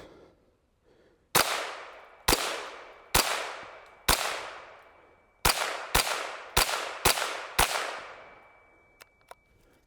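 Nine sharp .22lr rifle shots from an HK G36, fired left-handed at an outdoor range, crack out one at a time with ringing echoes and uneven gaps, some of them close together.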